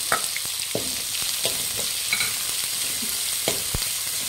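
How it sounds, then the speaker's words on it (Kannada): Onions and green chillies fry in a pan for mandakki oggarane, a steady close sizzle broken by scattered scrapes and taps of a stirring spoon. "ಫ್ರೆಂಡ್ಸ್, ಈರುಳ್ಳಿ ಚೆನ್ನಾಗಿ ಫ್ರೈ ಆಗಬೇಕು."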